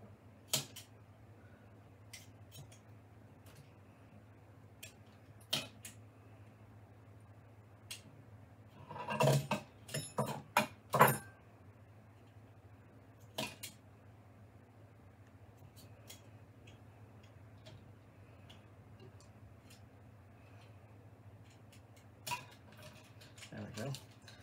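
Lengths of 3D printer filament sliced off one by one against a hard surface, a handful of sharp snipping clicks clustered close together near the middle, with a few faint isolated ticks before and after over a low steady hum.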